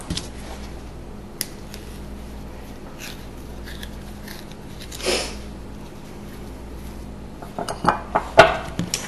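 Fork or spoon picked up and clinking against a bowl before mashing ripe peeled bananas: scattered light metallic taps and clinks, sparse at first, then a cluster of sharper clatters near the end, no talking.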